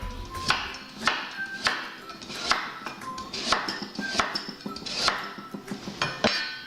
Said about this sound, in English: Get your carrots,